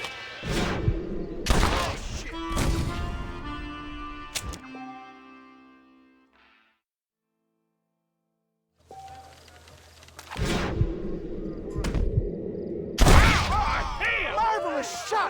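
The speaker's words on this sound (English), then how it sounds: "Marvelous shot, dear boy." Loud gunshots ring out in the Red Dead Redemption remaster game, several sharp blasts with reverberant tails, then a silent gap before more shots and impacts.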